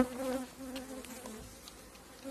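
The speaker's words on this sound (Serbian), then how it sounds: "imamo dosta ovdje pčela" Honeybees buzz steadily around a hive during a chestnut honey harvest, a close, continuous droning hum with a few louder passes, no voices.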